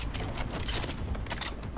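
Rapid gunfire from the game Cyberpunk 2077 2.0, a dense continuous volley of shots heard loud and close with no talking.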